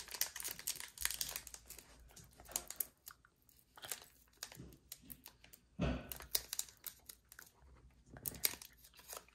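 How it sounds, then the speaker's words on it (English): A foil Panini Phoenix football trading card pack is torn open by hand, producing close, quiet crinkling and tearing in irregular bursts with brief pauses between. "Let's get our second pack open."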